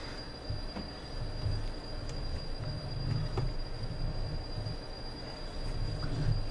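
Model train running along its track indoors, a steady low rumble with faint rolling rail noise and periodic swells, continuous and moderately close throughout.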